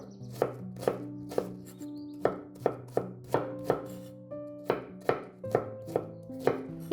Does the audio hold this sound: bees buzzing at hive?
no